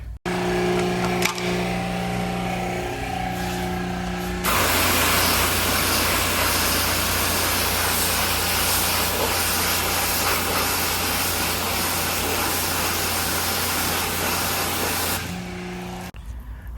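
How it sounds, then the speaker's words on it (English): Water sprays onto a rag in a continuous hiss for about ten seconds during a Honda Fit car wash, over a steady background engine hum, then stops abruptly. "make sure to spray it down before you go rubbing it all over the paint"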